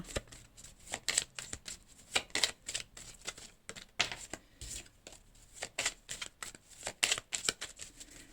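A deck of oracle cards is shuffled close up, a steady run of quick riffling flutters and soft slaps repeating in bursts, fairly quiet and with no talking.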